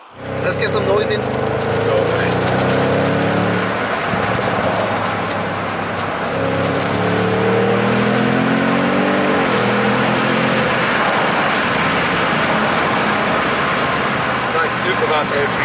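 A 700 bhp Audi S8 Plus D4 limousine accelerating hard with the windows partly down. The engine note climbs loudly through several rising sweeps, with heavy road and wind roar throughout.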